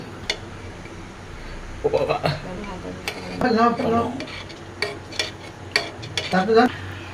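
Masala tea with sugar simmering in a pan over low heat, stirred with a spoon that clinks and scrapes against the metal in scattered strokes, beneath a soft bubbling background while someone talks intermittently.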